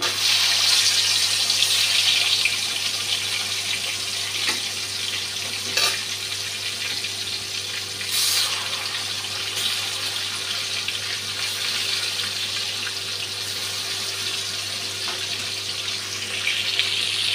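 Salted, turmeric-coated katla fish fries in a pan with a steady, close hiss and sizzle, broken by occasional louder spits and crackles.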